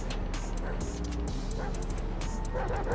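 Dogs in GTA 5 barking and yipping repeatedly in quick bursts, close and loud, over a steady background rumble of game ambience.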